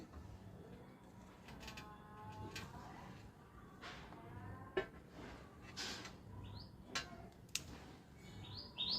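Scattered, thin sparrow chirps come and go over a quiet background, with a few sharp clicks in between; faint and outdoors.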